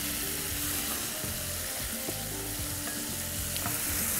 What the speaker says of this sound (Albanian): E kemi kaluar në skuqe me pak vital. Dhe tani është momenti që e kemi shuar me verë.